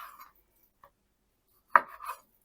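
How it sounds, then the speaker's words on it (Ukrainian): A knife cutting chicken fillet into pieces on a board: a few quiet, isolated scrapes and taps, with one firmer cut followed by a short slicing drag, close and faint in an otherwise silent kitchen. "Я буду різати на шматочки"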